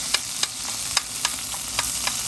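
Anchovies breaking down in hot oil for rigatoni alla Norma, a continuous close sizzle and crackle broken by sharp, regular taps of a spoon or spatula against the pan.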